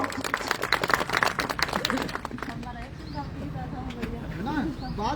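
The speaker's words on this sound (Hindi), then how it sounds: "आप लोगों की जोरदार विशेष तालियां उनके लिए" An audience at a gathering honoring a retiree claps loudly for about two seconds. The applause then thins out as voices and background chatter take over.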